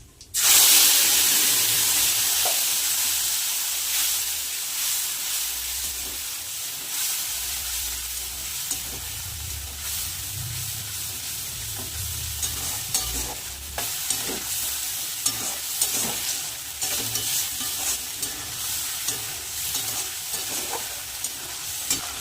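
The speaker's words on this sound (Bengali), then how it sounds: "তেলের মধ্যে দিয়ে দেবো হচ্ছে গোটা জিরে আর শুকনো লঙ্কা, দিয়ে দেবো বেটে রাখা মশলা।" Whole cumin seeds and dried red chillies hit hot oil with a loud sizzling burst that settles into a steady, close frying hiss with crackles and stirring noises.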